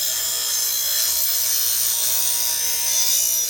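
A bench grinder or power grinding wheel sharpens a dull blade, held at an eyeballed angle without a fixture, giving a steady, continuous high-pitched grinding hiss that runs unbroken throughout at close range.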